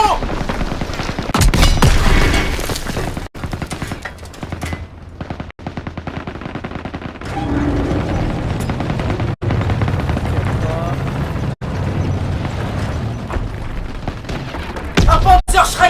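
Gunfire in the World War II shooter game Call of Duty WW2: dense bursts of rifle and machine-gun fire with heavy booms, loud and continuous, with voices shouting over the battle.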